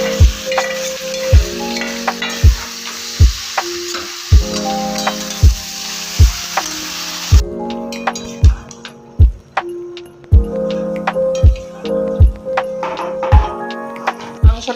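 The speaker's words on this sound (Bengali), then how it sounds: "এবার আমরা ম্যারিনেট করা মাংসটা দিয়ে দেবো।" Marinated chicken frying in a pan with capsicum and onion for a red chicken curry, a continuous sizzle under regular loud spatula scrapes and knocks on the pan in a steady stirring rhythm, no talk.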